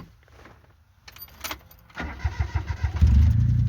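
After a quiet moment and a few clicks, a car's starter cranks on a freshly charged battery and the engine fires up, growing into a rough, steady idle.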